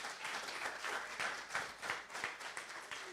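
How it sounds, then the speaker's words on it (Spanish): Applause from the audience at a Sukkot gathering, a steady wash of many hands clapping at moderate distance through the whole stretch, with no voices standing out. "Alba, un aplauso, por favor"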